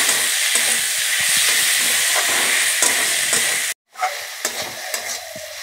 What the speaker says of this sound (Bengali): চেরা কাঁচা লঙ্কা টমেটো কুচোনাটাও দিয়ে দেবো, দিয়ে ভেজে নেবো।